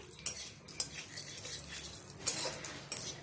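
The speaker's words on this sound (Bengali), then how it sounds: "একটু নাড়বো ফোড়নটা" A spoon scrapes and clinks against a pan while a spice tempering of cardamom, cumin, dried chilli and bay leaf is stirred, with sharp metallic knocks at intervals over a faint sizzle and no talking.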